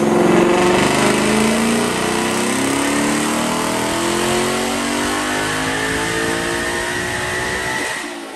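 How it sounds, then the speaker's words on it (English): A supercharged Ford Mustang makes a full dyno pull, its engine and supercharger whine climbing steadily in pitch, loud and close, then cutting off at the end with no talk. "Check out this dyno pull."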